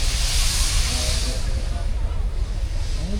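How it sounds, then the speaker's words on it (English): Steam engines at the Welland Steam Rally in Worcestershire give off a loud, broad hiss that is strongest at first and then settles into a rumbling outdoor wash. "Some more steam engines."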